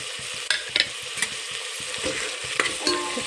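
Sliced tomato goes into a frying pan with potato and eggplant for masale bhat, hissing in a steady close sizzle punctuated by a few sharp stirring clicks.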